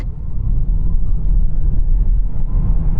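A Tesla Model 3 Performance accelerating hard in a 0-96 km/h test, a loud steady low rumble of road and wind noise with no engine note, and no voices.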